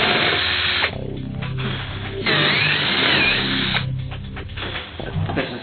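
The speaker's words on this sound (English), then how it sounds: "So we're just going to take the fin out, drill out the actual plug," A power drill bores out a surfboard fin plug, its motor whining in bursts that stop and restart several times, close and loud with no talking.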